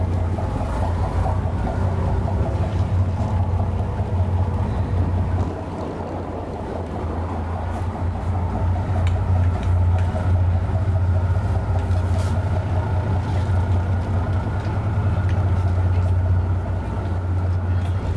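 A ferry pulls away from Bainbridge Island, its engine a loud, steady low rumble with wind and churning water throughout, a brief dip partway through.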